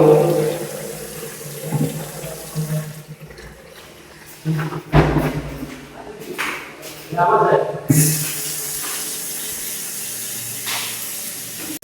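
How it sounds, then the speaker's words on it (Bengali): Cold water runs from a table top basin mixer tap, gushing and splashing in uneven bursts near the microphone while someone talks over it. "কোল্ড আর কি ঠান্ডা জলটা চালু।"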